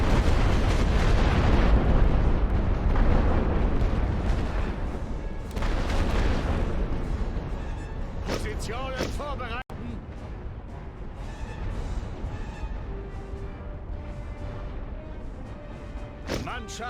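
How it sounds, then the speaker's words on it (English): Artillery fire in a video game tournament set in a World War I offensive: heavy booms roll out repeatedly at first, then the scene quiets to scattered distant bursts under voices. "if you want to watch the artillery back and forth, it's here for you, just without commentary"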